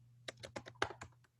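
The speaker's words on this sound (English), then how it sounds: "I'm typing this." Quick keystrokes clatter on a computer keyboard, roughly eight close taps in an uneven burst over a low hum.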